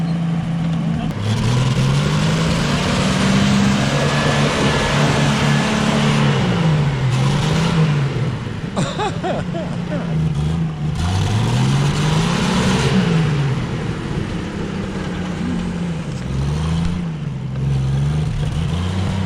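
Lifted Camaro engine revving repeatedly, its pitch rising and falling in waves while tires spin, loud and close throughout with a continuous rumble.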